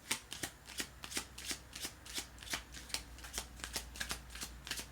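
Tarot cards shuffled by hand in a steady run of crisp riffling flicks, quiet and close, with no voices over them.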